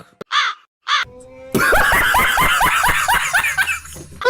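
A crow caws, starting with two short separate calls, then a rapid run of harsh repeated caws. The sound is loud and close and is added as a comic sound effect.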